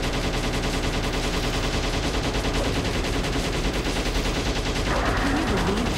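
Continuous rapid gunfire from a row of bullets in the Shadow the Hedgehog video game, dense and steady at a moderate level throughout, mixed with game music and effects.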